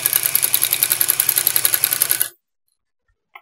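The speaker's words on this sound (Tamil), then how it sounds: "இங்கேயும் 2 தலை ஒன்றா வச்சு 1/4 இன்ச் தள்ளி ஒரு தையல் போட்டுக்கணும்." A sewing machine stitching a petticoat, a fast rhythmic clatter of the needle running for about two seconds before stopping abruptly, followed by silence and one small click.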